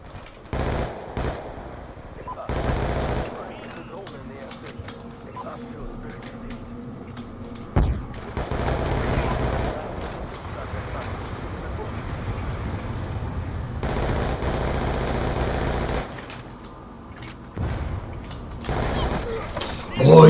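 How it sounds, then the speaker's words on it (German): Machine gun fire in Call of Duty: Black Ops 2 multiplayer, loud sustained automatic bursts separated by short pauses, close and dominant across the whole stretch with some quieter gaps of game ambience. "Muss der so schießen, meine Fresse."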